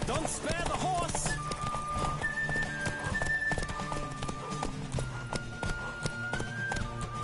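Hooves pound in a steady galloping rhythm as a horse runs in The Witcher III: Wild Hunt, with a brief neigh near the start and game music humming beneath.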